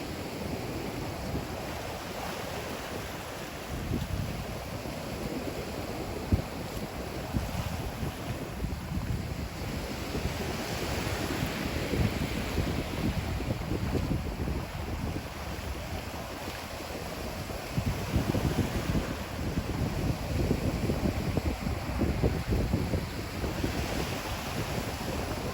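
Surf and wind on a Florida island beach roar steadily, with waves washing in and out under constant gusts buffeting the microphone, broad and fairly loud with no voices.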